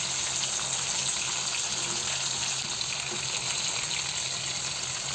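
Beans sizzle in a hot pan, a steady dense hiss of frying that holds at an even level throughout, close and loud, with no talk.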